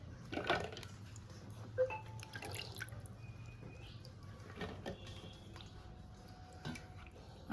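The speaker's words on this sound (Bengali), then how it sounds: "আরও এক দুবার ধুয়ে নেবো ভেন্ডি।" Whole okra pods are rinsed in water, with soft drips, splashes and trickles near at hand, quiet and intermittent, no talking.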